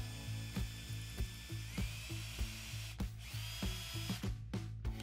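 A power drill bores into a hardwood scrap through a dowel jig during coat rack woodworking: a close, steady high whine broken by regular rhythmic pulses of the bit biting, with no voices.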